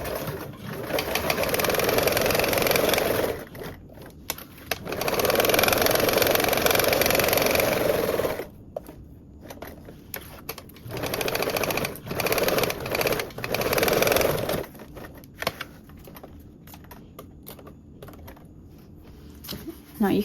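A sewing machine basting the seams of a duffle bag runs in long steady stretches, stopping and restarting several times with short pauses and light clicks in between.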